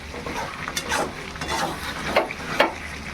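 A spoon scrapes and stirs chicken curry in an old, thin, worn wok, giving several soft scraping strokes over a low sizzle, close and moderately quiet.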